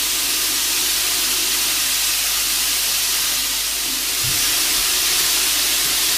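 Salmon fillet grilling on a stovetop pan, a steady loud broadband hiss of sizzling fat and steam running throughout, with a brief low thump near the end and a single spoken word.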